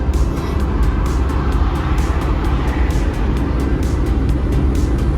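A red classic car passes alongside at a Northumberland classic car show, its steady broadband engine and road roar loud and close, holding level for several seconds with no talk.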